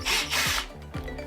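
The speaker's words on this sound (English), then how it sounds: "if you make sure that you've got a nice strong drill bit that I have" A power drill with a strong bit bores out screws on a WLTOYS 144001 RC car chassis during a carbon fibre chassis kit install, making loud close whirring bursts with a few pitch drops as the motor bogs.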